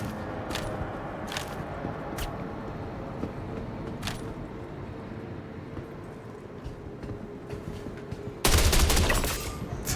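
Gunfire in the space shooter Star Citizen: a dense game soundscape with scattered sharp transients, ending in a loud, sustained burst of rapid shots over the last second and a half.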